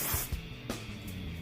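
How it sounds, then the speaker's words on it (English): Hairspray sprays onto hair in styled Old Hollywood waves as a few short hissing bursts, close and moderately loud. "I'm gonna make sure with the hairspray, I spray"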